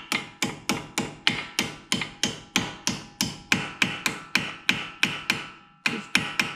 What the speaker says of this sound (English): the noise will change when you're hitting it with a hammer